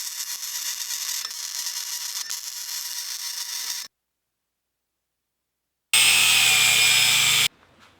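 Grinding down a weld bead on a steel drift trike frame with a power tool, a loud steady harsh whir for about four seconds, then silence, then a second louder burst before cutting off.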